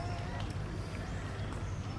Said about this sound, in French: C'est le cheval qui va tirer?